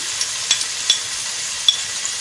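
Mustard seeds, cumin, whole coriander and fenugreek seeds sizzle steadily in hot oil for kadhi, a soft continuous hiss with a few sharp pops and crackles from seeds bursting.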